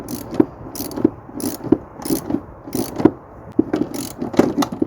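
A hand ratchet tightens a suspension wishbone arm bolt on a Mercedes C-Class, a close, rhythmic series of clicking strokes repeating roughly every two-thirds of a second, each stroke a short burst of pawl clicks.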